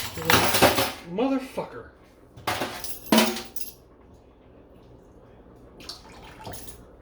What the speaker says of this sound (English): Rinse it off, get all the nutmeg out of it